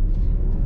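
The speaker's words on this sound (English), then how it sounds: "Bit of brake torque, about 2200 RPM off the brake." A 2025 Genesis GV80 3.5T twin-turbo engine held on brake torque at about 2200 RPM, giving a loud, steady low rumble throughout a very short burst.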